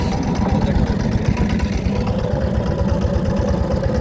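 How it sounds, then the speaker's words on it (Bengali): A motor boat engine runs steadily on Parbatipur lake after starting, a constant loud rumbling drone with no break. "এই যে আমাদের নৌকাটি চালু হলো।"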